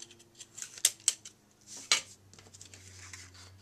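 Quiet, close snips of scissors cutting ribbon for a scrapbook page, two or three short crisp cuts amid faint handling rustles.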